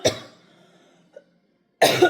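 A single harsh cough rings out, followed by near silence and a tiny throat sound, then another loud cough at the end.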